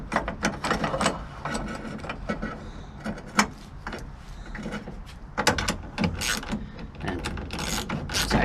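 Clamp on a tonneau cover being tightened down on the bed rail of a Nissan Frontier with a utility track system, giving a string of close ratcheting clicks and mechanical clatter in irregular bursts over several seconds.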